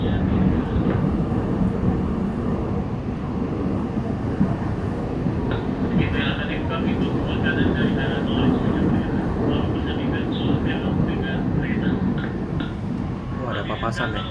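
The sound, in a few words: Indonesian-built KRL INKA CLI.22 electric commuter train running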